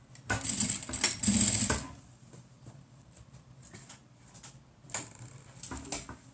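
Sewing machine stitching cotton mask rectangles and backstitching, two short bursts of rapid mechanical stitching separated by quiet, fairly close and moderately loud with no talking.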